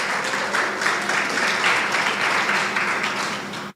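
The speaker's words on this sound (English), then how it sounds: "let us give her a round of applause" Audience at a diaspora conference breaks into loud, sustained applause, a thick mass of clapping hands close up that holds steady for several seconds before cutting off abruptly.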